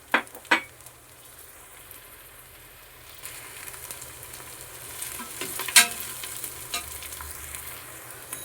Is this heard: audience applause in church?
no